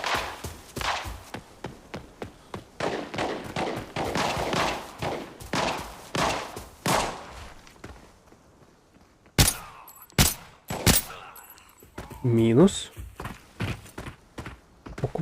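Gunfire in the mobile shooter Arena Breakout, sharp bursts and single shots crack loudly in the second half with short gaps between them, after a stretch of rapid clattering footsteps and movement noise.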